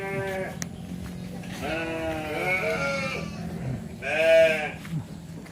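Goats in a pen bleat repeatedly in long, quavering calls, one bleat in the middle and another, louder one near the end, over a steady outdoor background.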